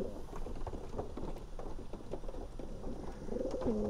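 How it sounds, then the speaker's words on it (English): Low, soft cooing of doves or pigeons repeats over a steady background hiss, fairly quiet and a little distant. "There's some beautiful birds in there, like all of them. Just really nice birds."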